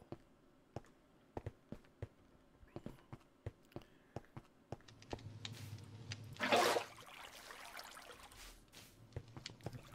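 Water is placed and flows in Minecraft, a short gushing burst after a run of regular footstep-like clicks, followed by a soft steady running-water wash that fades under the game's ambience.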